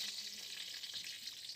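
Cumin seeds sizzle in hot mustard oil in a pan, a steady, close, crackling hiss that stays even throughout with no talking.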